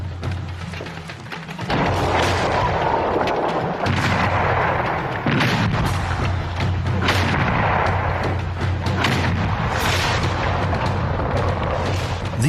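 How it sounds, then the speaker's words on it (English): Cannon bombardment during the 1529 siege of Vienna: a dense, continuous barrage of loud booming artillery fire and explosions, overlapping blasts rolling on without pause. "so they had to bombard Vienna with smaller cannon."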